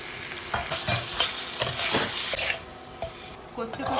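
Masala sizzles and fries in a pan while a spoon stirs it with scraping, clinking strokes, with ground black pepper being added to the cooking spices; steady frying hiss throughout, no talk.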